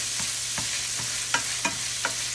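Sausage frying in a pan for homemade sausage gravy, with a steady sizzle under sharp utensil clicks and scrapes as the meat is chopped and stirred, about six distinct knocks spread across the stretch.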